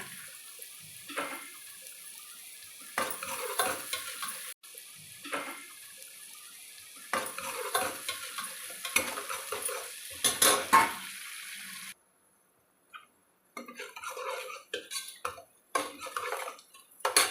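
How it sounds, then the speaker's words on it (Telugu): Onions fry with a pinch of salt in a pan for a Telugu-style fish curry. A utensil scrapes and stirs in irregular spells over a soft sizzle, with a brief quiet gap partway through. "ఇట్లా ఉల్లిపాయ వేగుతున్నాక"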